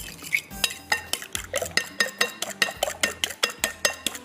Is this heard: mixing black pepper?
yes